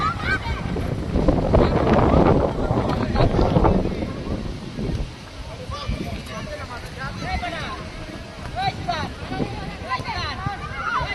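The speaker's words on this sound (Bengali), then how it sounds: "বাতাসে প্রচণ্ড পরিমাণে ঝড় হচ্ছে ধোলাবালি যা আছে সব একবারে লন্ড ভন্ড করে দিচ্ছে" A strong dust-laden windstorm roars and buffets the microphone, with heavy gusts early that ease into a rougher, fluttering rush, while a person talks through it.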